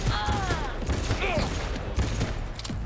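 Rapid gunfire from a Cyberpunk 2077 firefight rattles in dense, overlapping bursts with scattered impacts and whining tonal effects, loud and continuous throughout with a voice faintly mixed underneath.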